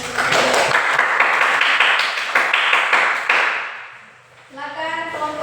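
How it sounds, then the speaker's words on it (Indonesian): A classroom group claps together in a peer observation lesson, a dense burst of hand claps lasting several seconds before fading, followed by a brief voice. "berikan tepuk tangan bagi"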